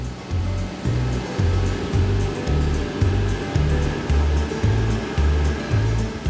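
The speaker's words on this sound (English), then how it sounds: "This machine finely chops and flattens the leaves." A tea processing machine chops and flattens withered tea leaves. It gives a steady, loud, rumbling whoosh with a regular low thump about twice a second, and light high ticks keep time above it.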